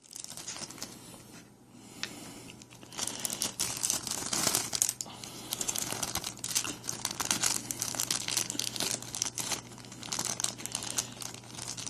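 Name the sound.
cutting apart plastic packaging to free figure's wings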